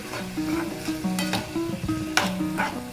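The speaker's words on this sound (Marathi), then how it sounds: "2 मोठे टमाटे मी असे चिरून घेतलेले आहे, हे बी टाकून घेऊ. चांगलं मिक्स करून घेऊ." Chopped tomatoes are stirred into dal palak in a pan, giving close, repeated scraping strokes over a soft, continuous sizzle.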